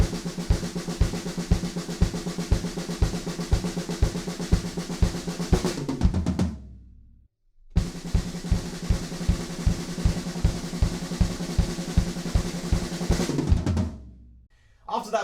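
A drum kit plays a build-up, four bars of driving 16th notes with steady kick hits and cymbals ending in a fill, then a brief drop to silence before the pattern returns and cuts out again.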